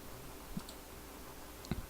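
A computer mouse being right-clicked during Photoshop pen-tool masking gives two soft, dry clicks about a second apart, alone in a quiet room.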